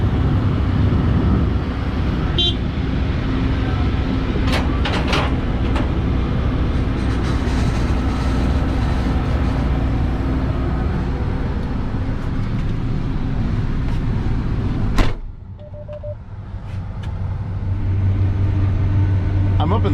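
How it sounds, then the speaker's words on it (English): Steady loud rumble inside the cab of a John Deere X9 1100 combine harvesting corn with a C16F Stockmaster 16-row folding cornhead, a continuous drone with brief clunks and a sharp knock near the end. "I'm up in the cab of the John Deere X9 1100 combine, and we're harvesting corn today with a John Deere C16F Stockmaster cornhead"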